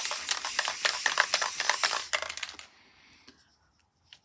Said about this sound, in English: So I'm going to give that a good spray,